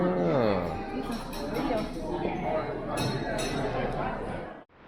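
Glasses clink together a few times in a toast, bright short chimes heard over people talking at a table.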